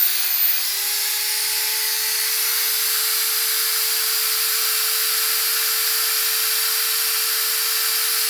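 An electric drill whines steadily and loudly for the whole stretch, starting up then holding one constant high motor pitch, used while measuring household supply voltage.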